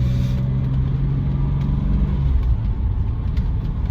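Inside a moving BMW 635CSi E24 with a dogleg manual gearbox, a low engine rumble and drone runs continuously and loud, holding a steady tone with no voices.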